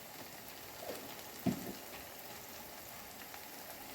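Tomatoes sautéing in a pan for kothu parotta give a faint, steady crackling sizzle, with one soft clink partway through and no talking.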